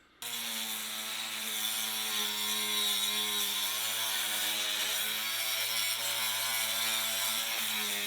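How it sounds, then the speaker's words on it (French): An angle grinder whines steadily and loudly, close up, as it strips rust and old paint from metal shutter hardware, holding one continuous tone for the whole stretch. "Avec un coup de meuleuse, ça commence, je sais pas si on voit bien, à enlever une bonne partie de tout ce qui est rouille et ancienne peinture."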